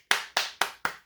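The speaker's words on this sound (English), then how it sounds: "you deserve a round of applause" Four sharp, evenly spaced hand claps ring out close and loud in quick succession, each with a short decay, with no voices over them.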